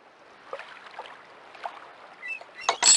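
Quest for Glory V: Dragon Fire boat ride effect of soft water lapping and sloshing against a boat, faint and intermittent, building to a louder splashy burst at the end.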